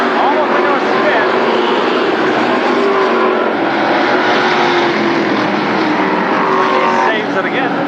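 Mini Indy race cars roar around Berlin Raceway in a dense, continuous engine drone with rising and falling whines, loud and close, while a commentator talks over them throughout.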